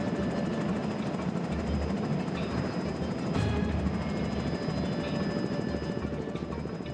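A helicopter hovers over the sea during astronaut sea survival training, a steady loud rotor and engine roar with wind and water wash throughout.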